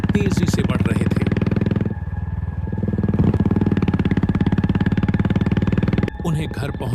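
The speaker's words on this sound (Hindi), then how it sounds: "अपनी बाइक से गांव की सुनसान सड़क पर तेजी से बढ़ रहे थे।" A motorcycle speeds along a deserted village road at night, its steady engine drone running throughout beneath a voice talking over it.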